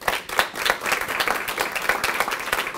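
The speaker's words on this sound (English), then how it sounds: "who by the way deserve a round of applause" Audience clapping at a county college campus ribbon cutting in Rahway, Union County, a sustained round of applause with sharp individual claps, fairly loud and close.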